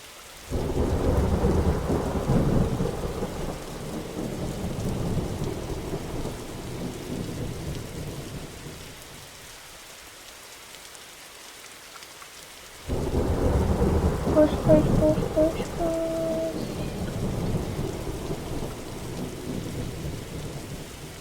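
Rain and rolling thunder in the Roblox game Break In 3 form a steady heavy wash, dropping to a quieter lull midway before the downpour and rumbling return strongly.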